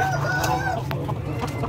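Roosters crowing and chickens clucking at a poultry and livestock market in Purworejo ahead of Lebaran, several birds calling close by over a steady background din.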